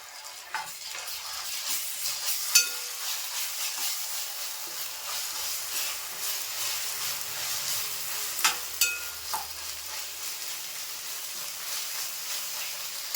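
Browned onion frying in a pan as two spoons of ginger garlic paste go in, a soft steady sizzle with stirring scrapes and a few sharp spoon clinks against the pot, close and fairly quiet.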